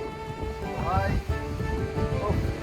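Sea wind and waves along Shankarpur Marine Drive near Digha: a steady breezy roar of surf and wind buffeting the microphone, with a voice talking over it throughout.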